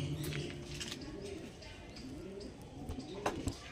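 Andhra breed pigeons coo softly at close range, with a few low repeated coos, some chirps and small clicks and rustles in the background.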